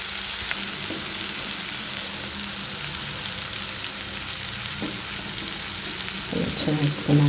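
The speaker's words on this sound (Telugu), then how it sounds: "ఈ రెడ్ చిల్లీ పౌడర్ కూడా మొత్తం మిక్స్ చేసేసుకున్నాం కర్రీలో" Bitter gourd curry fries with a continuous sizzling hiss as red chili powder is stirred in, with occasional scraping of a spoon against the pan growing busier toward the end.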